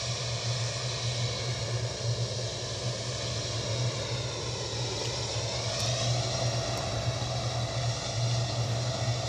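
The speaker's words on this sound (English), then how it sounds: "Virgin Atlantic 350 pushing back. Positioning flight, going to take off like a rocket" A Virgin Atlantic A350 at Edinburgh Airport pushes back, its engines giving a steady, broad jet whine and rumble at a moderate distance without interruption.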